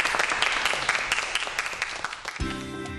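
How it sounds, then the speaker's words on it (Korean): Audience clapping after a lecture on apple-tree plant genetics, dense and steady applause for a few seconds that thins out near the end, when a low musical tone enters. "여러분 큰 박수 부탁드리겠습니다"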